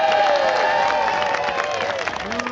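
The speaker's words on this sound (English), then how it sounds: "please get some applause going. Start with cheering" A crowd at a comedy event applauds and cheers in a sustained, dense wash of clapping and whoops, fairly close, tailing off slightly toward the end.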